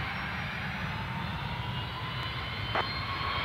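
A fixed-wing aircraft takes off from runway 03 at Perth Airport, its engines giving a loud, steady roar that holds continuously throughout.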